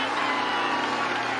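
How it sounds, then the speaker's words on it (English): Crowd cheering a goal at a Syracuse vs St Bonaventure college lacrosse game, a steady roar of whoops and applause from a large stadium audience, sustained and fairly loud. "And the crowd absolutely loved that one."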